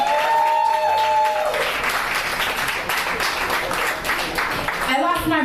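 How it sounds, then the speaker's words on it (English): An audience at a spoken word poetry event in New York claps for a few seconds, a dense burst of applause that rises after a brief spoken line and fades near the end as a voice returns. "Please, everyone, give a clap to Mike."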